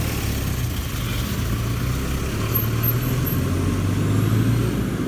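A car rolls past on a city street in Merida, Mexico, its steady engine hum and tyre noise continuous and fairly close, with no talking.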